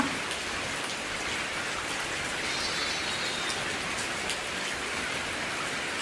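Steady monsoon rain pours down continuously on surrounding surfaces, a dense, even hiss of countless drops with no talking and no thunder.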